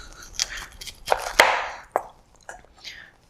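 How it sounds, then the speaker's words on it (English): A knife cuts broccoli florets at the base on a cutting board, a few crisp snapping cuts and soft crunches spaced out, with someone talking quietly between them. "Another way is you just take the knife and you cut at the base here."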